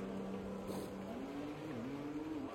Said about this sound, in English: Tickard now coming in to the pits.